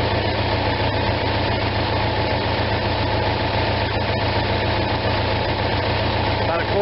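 Onan RV generator engine idling with a steady low rumbling drone and mechanical vibration, loud and close, continuous without change in pace.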